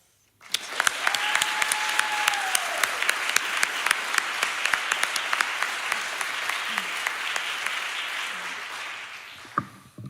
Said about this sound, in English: give one last round of applause for everyone that's been on stage for the last hour